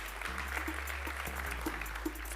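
An audience applauds at the MT 180 Poitevine final, dense close clapping running steadily under low musical hum and a few sharper accents.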